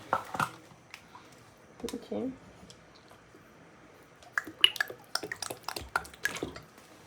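Oil is poured onto three eggs in a bowl for homemade mayonnaise, giving close wet drips and small splashes in a few separate bursts, with soft clicks between them.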